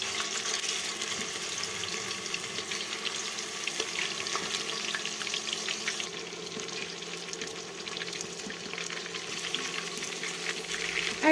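Malai chicken kabab pieces fry in hot oil in a pan, a continuous crackling sizzle running steadily throughout with faint clinks and shifting as the pieces are turned.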